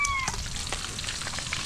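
Food sizzling in hot oil while frying, a crackling hiss throughout with a brief high whine at the start and scattered spatters and stirring clatter.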